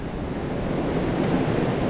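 Rough ocean surf breaking on a shore, a steady, dense roar of churning water with wind buffeting the microphone, loud and continuous with no voices.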